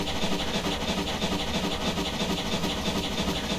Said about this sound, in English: let's cut our throttle down a little bit so we can hear ourselves over that exhaust